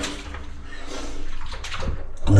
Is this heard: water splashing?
yes